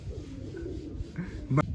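Pigeons kept at a Punjabi home coo in soft, low, repeated calls close by, with a brief louder burst near the end against a steady outdoor background.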